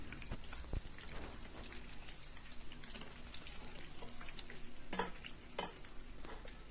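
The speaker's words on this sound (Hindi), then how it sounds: "अब इसी तेल में फिर से जो बची हुई पनीर है आधे बैच, उसे मैं इसी तरीके से फ्राई कर लूँगी।" Pieces of paneer fry steadily in hot oil, a continuous close sizzle with occasional sharp pops and scraping stirs, no talking over it.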